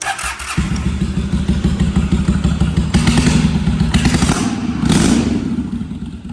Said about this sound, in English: try and fire her up with some fresh gas